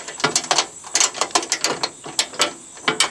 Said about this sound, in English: we can take a 5mm Allen and a 13mm wrench and go ahead and tighten up all of the 9 Allen bolts